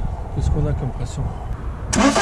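A diesel HDI/DCI car engine cranks without catching, a short burst of starter churning under a voice talking nearby, then a sharper hiss of noise at the end.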